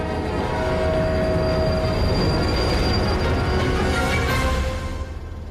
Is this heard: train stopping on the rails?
yes